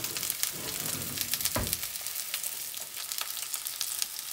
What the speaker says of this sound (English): You hear them sizzling in the hot olive oil.